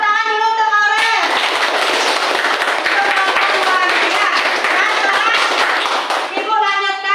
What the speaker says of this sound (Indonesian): Ya, tepuk tangan dulu untuk Aurel